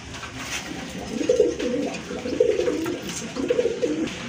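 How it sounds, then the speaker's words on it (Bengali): Racer pigeons coo in soft repeated bursts, a pair close by, with the low rolling calls rising and falling over a quiet background. "আর এখানে কিন্তু এক জোড়া রেসার কবুতর আছে"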